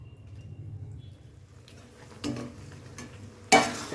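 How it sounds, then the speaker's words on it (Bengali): Jujube fruits for a pickle being cracked open in a kitchen: a quiet, faint background, then two brief, sharp cracks, the second louder and crisper. "এবার কুলগুলো দেবো ফাটিয়ে ফাটিয়ে দেবো তাহলে মশলাটা ভালো ঢুকবে"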